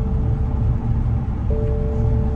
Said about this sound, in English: That's the noise of a BMW convertible makes when the roof is not working.